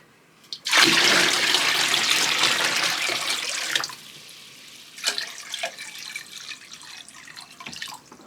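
Water pours into a bucket in a loud rushing gush for about three seconds, then trickles and drips in short splashy bursts.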